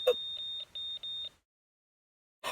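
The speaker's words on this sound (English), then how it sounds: "I was like, what is that beeping noise?" An electronic beeping sounds in Zenless Zone Zero: a string of short, clear, high-pitched beeps in an uneven rhythm, then a pause, then another burst.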